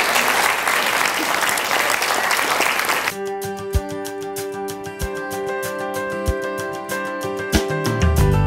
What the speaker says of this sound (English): give him a praise clap in this house